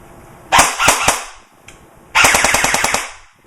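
An A&K M4 D1 airsoft electric gun fires on an 8.4 volt battery, loud and close: a short burst of rapid shots, a pause with one faint click, then a longer rapid burst.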